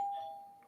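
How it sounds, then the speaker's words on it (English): A doorbell rings once in a home office during a live stock-trading broadcast, a single sustained chime tone that fades quietly over under a second with a brief second note near the end. "Wait, whose doorbell was that?"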